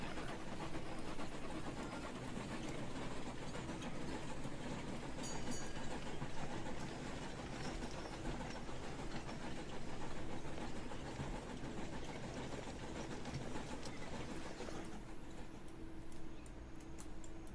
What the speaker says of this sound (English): zoom in nice and close to see the trains bustling around